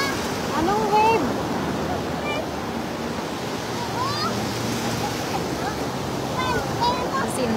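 Ocean surf rolls steadily onto a beach at Sipalay, a constant broad wash of waves with wind buffeting the microphone, while people chat and call out faintly over it.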